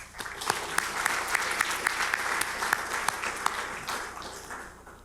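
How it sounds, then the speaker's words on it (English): An audience applauds the speakers at a conference on Korean unification, with sustained clapping and several sharp individual claps standing out before it thins toward the end. "let's give them another round of applause."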